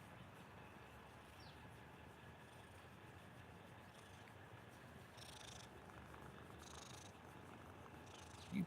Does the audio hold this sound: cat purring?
yes